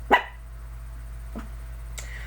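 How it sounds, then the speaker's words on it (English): A small puppy gives one sharp yip at a door, then two fainter barks follow a moment apart, alone against a steady low hum in a quiet room. "I think the little dog, the little puppy, is at the door."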